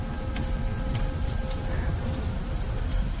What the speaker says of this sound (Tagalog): Makatakot Umuulan naman pa kasi.